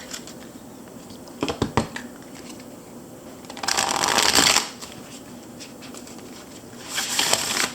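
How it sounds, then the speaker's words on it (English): Two quick bursts of playing cards being riffle shuffled, the second longer and louder, with a brief crackle of cards in between and a final burst at the end. "We're gonna riff shuffle."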